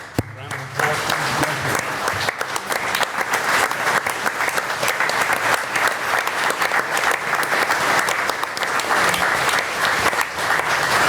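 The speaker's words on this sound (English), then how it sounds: "give him a round of applause" A council meeting audience breaks into sustained applause that runs steadily for about ten seconds, dense and fairly loud, with a few murmured voices beneath it.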